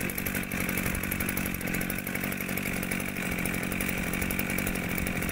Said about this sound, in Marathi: हा पंप आहे, हा पंप पिस्टनचा पंप आहे